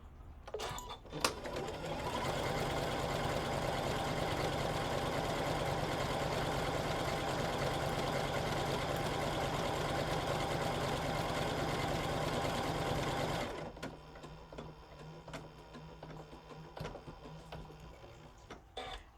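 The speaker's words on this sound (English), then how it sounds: "We'll use the same design and I'll stitch the first one." A sewing machine stitches a tapering decorative stitch, a loud, even mechanical whir running steadily for about twelve seconds after a few start-up clicks, then stopping to quieter handling noises.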